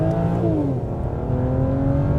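A BMW 335i engine revs up under hard acceleration, rising harmonic tones sweeping steadily upward, loud and close with a constant heavy drone throughout and no voices.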